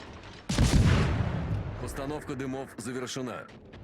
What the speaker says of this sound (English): So I've tried another AP salvo there, which did basically nothing.